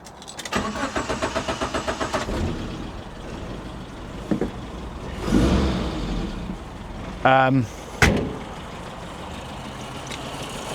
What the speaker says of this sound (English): it does still take a bit of turning over